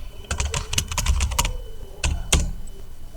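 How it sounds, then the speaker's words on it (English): Quick bursts of keystrokes on a computer keyboard, clustered clicks in two short runs with a pause between, close and clear with no voices. "now you can type the new name"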